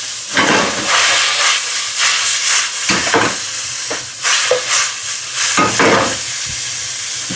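Sliced zucchini steams in a hot pan after liquid is added, giving a loud continuous hiss and sizzle with bursts of sputtering and stirring, no talk.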